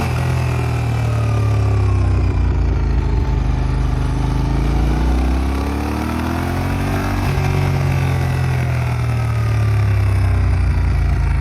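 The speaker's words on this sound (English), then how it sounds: "that exhaust does sound good" A Yamaha Ténéré 700 motorcycle engine idles and revs nearby with a deep, throaty exhaust rumble, rising and falling steadily throughout without any talking.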